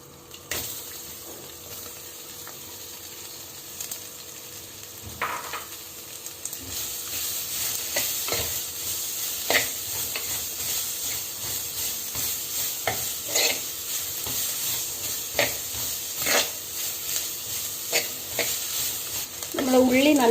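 Onions and ginger garlic paste sauté in a pan for a crab curry. A constant sizzle runs under frequent stirring scrapes and clinks, with brief watery splashes, and the sound grows louder toward the end.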